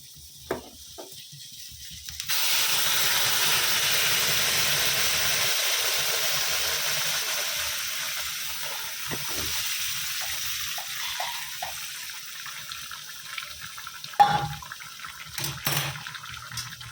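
Water being poured into a pan of fried onion-garlic masala with fried pointed gourd, a strong continuous splashing rush lasting several seconds, then fading to faint clinks and scrapes.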